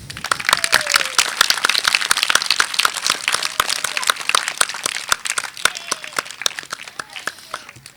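Audience clapping at a Karachi literature festival storytelling session, scattered hand claps of uneven rhythm filling the room, with voices talking over them.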